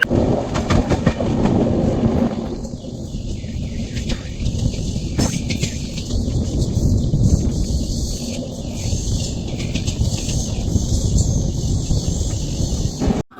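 A passenger train from Anand Vihar pulls into Patliputra station with a steady rumble of wheels and carriage noise and faint clickety-clack on the rails, and it continues loud and close throughout.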